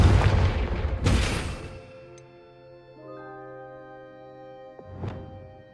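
A Confringo blasting spell goes off in Hogwarts Legacy as a loud, sharp explosive boom, followed by a second burst a moment later, then lingering tonal magical ringing and a smaller pop near the end.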